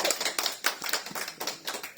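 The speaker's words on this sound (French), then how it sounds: "Et nous voulons l'applaudir voilà, pour sa présence." A church congregation claps together at a Sunday worship service, a brisk burst of repeated handclaps at moderate volume with no voices over it.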